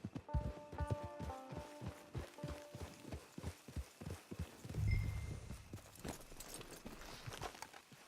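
Steady clip-clop of horse hooves trotting on ground in Red Dead Redemption 2 Online, close and rhythmic, with a brief low rumble midway and light game ambience behind.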